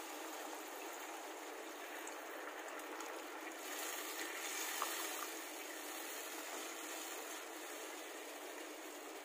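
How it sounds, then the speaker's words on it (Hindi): About a cup of water poured into a hot pan of Manchurian gravy base, giving a steady, even hissing sizzle that holds for the whole stretch with no one talking. "एक कप के लगभग पानी डाल दिए हैं।"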